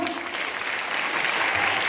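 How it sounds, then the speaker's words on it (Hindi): Applause from an audience at a school Republic Day celebration, a steady wash of many hands clapping together that holds even throughout, with faint voices mixed in. "थोड़ी बहुत जोर की तालियां तो बजाओ"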